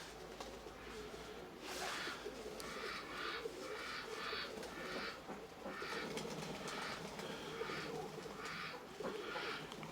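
Pigeons coo softly in Nikolaev during rain and wind, their low calls recurring in steady bursts amid a continuous wash of rainfall and faint background rumble.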